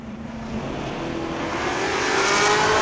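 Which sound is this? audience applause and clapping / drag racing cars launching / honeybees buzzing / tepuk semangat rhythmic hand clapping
drag racing cars launching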